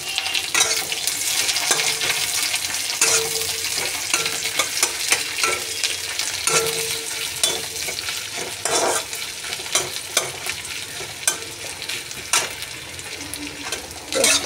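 Loud, dense sizzle of onion frying in a pan, close and continuous throughout, with scattered stirring scrapes breaking through the steady crackle.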